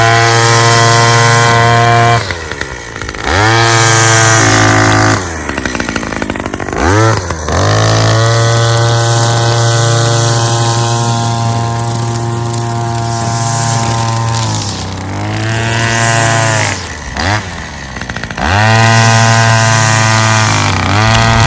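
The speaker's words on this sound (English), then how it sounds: "let's go ahead and weed eat underneath a couple of these burning bushes and see how it does" Vevor two-stroke gas weed whacker trimming under burning bushes, a loud, close buzzing engine that revs high and drops back to idle several times, with brief dips between bursts and no talk.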